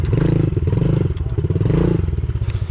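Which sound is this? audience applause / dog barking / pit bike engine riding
pit bike engine riding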